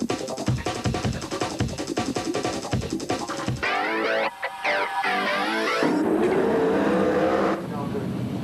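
Sprintcars roar through a heat race at Premier Speedway during the 2003 Grand Annual Sprintcar Classic, loud engines pulsing and surging as cars pass close, then a sustained, distorted howl of rising and falling engine pitch.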